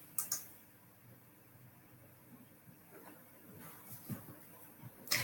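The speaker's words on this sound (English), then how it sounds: "And then click Publish." Mouse buttons click in Xero accounting software: a couple of quick light clicks at the start and another near the end, faint and close in an otherwise quiet room.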